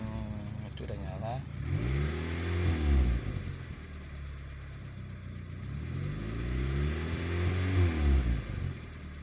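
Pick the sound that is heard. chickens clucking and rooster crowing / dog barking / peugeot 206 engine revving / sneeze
peugeot 206 engine revving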